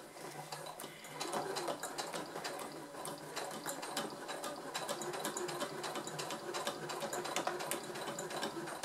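A sewing machine stitches the seam of a fabric vanity bag, producing a rapid, continuous mechanical rattle of needle strokes that starts after about a second and runs steadily, close and moderately loud.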